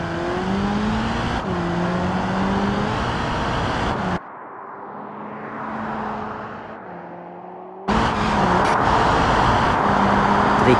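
A Chevrolet Tracker 2 in a driving game roars at high speed toward a long jump, its engine a steady loud whine with pitch shifts, briefly muffled midway before returning at full volume.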